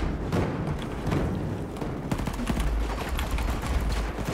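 Gunfire in the video game Battlefield 2042, steady bursts of rapid shots and dull thumps in a busy battle din, continuous and fairly loud.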